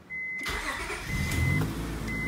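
A 2002 Acura TL/CL/MDX engine cranks and catches, then settles into a steady idle, close and fairly quiet.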